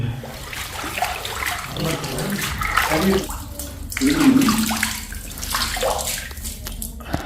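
Clear water trickling and splashing in a narrow cleft between rocks on a hill temple site, a continuous close burble while someone talks over it.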